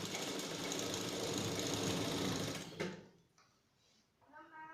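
A sewing machine runs steadily while stitching along a fabric edge for a toddler's frock, close and continuous for about three seconds before stopping, followed by faint quiet and a brief voice.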